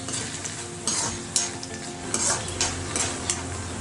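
Dried red chillies and spices fry in a pan with a busy, crackling sizzle, broken by repeated scraping stirs and light metallic taps of a spoon against the pan.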